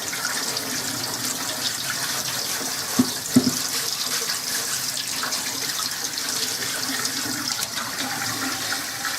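Running tap water rinsing photo emulsion off a screen-printing screen, a steady hissing spray with a couple of brief knocks partway through.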